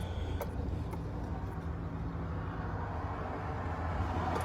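Steady low road rumble of a car being driven, a constant muffled cabin drone with no talk over it.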